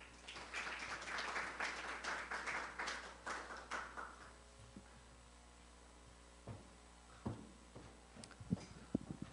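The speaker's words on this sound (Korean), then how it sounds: "큰 박수로 맞아주시기 바랍니다." Audience applause welcoming the director at the opening of a Korean science and technology policy forum, moderate clapping for about four seconds that fades out, followed by quiet room noise with a few isolated taps.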